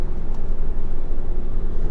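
A tuned Volkswagen Golf GTI MK7 with a Stage 1 tune accelerating hard: a steady, loud engine drone with a deep low rumble, heard from inside the car without talking.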